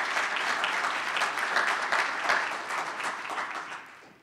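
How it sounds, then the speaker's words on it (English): A crowd at a Douglas County community address gives sustained applause, a dense, even wash of clapping that holds steady and then fades out near the end. "Please applaud."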